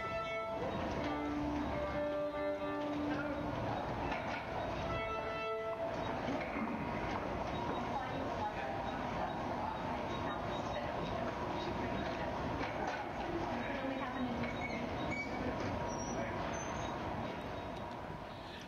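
A train rumbles through a metro station, a loud continuous roar of rolling wheels and carriages with a brief horn-like tone near the start, steady throughout.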